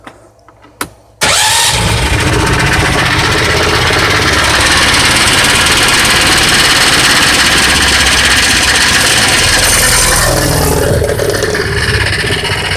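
Club Car golf cart converted from electric to gas, its choked engine cranking from cold and catching, then running loud and steady with heavy mechanical rattle close by.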